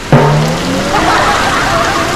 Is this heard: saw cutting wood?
no